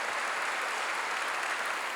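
Steady, dense applause from a church congregation during a sermon, continuous and fairly loud throughout with no talking.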